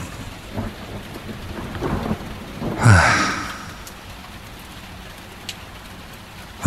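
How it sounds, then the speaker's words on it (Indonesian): Night rain falling steadily with a single loud rumbling thunderclap rolling in and fading away, while a man briefly sighs. "hujan mulai turun."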